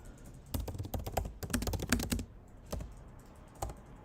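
Keys clatter on a computer keyboard in bursts of quick, uneven keystrokes, with short pauses and a few isolated taps near the end, close and fairly quiet, no talking.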